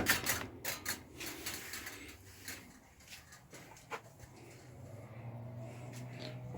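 A retractable screen door is pulled shut, with a run of quick rattling clicks and taps at first, then softer scrapes and a single knock before a quiet hum.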